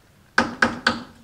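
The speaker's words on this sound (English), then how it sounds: "The fish footman rapped loudly at the door." Three loud, evenly spaced raps on a door, each a sharp knock with a short decaying ring, close by and with no talk around them.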